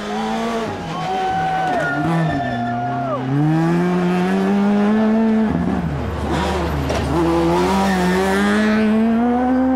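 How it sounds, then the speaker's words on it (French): A rally car storms through the Col de Turini stage of the 2009 Monte Carlo Rally, its engine loud and near, revving hard with rising and falling pitch through gear changes as it passes. "Allez, Jan Kopecky arrive à son tour."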